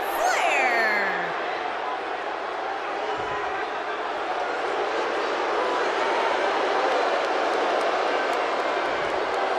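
Wrestling arena crowd at a WCW Starrcade world title match roars in a loud, steady wall of cheering that fills the space, with a brief whistle-like sweep at the start and no pauses.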